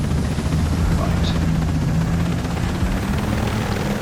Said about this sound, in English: This helicopter hasn't got any weapons on it.